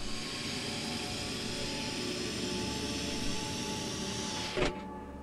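Cockpit canopy of an A-10C Thunderbolt II opening in Microsoft Flight Simulator, a steady mechanical whir over a constant engine drone that ends in a sharp clunk, no talk.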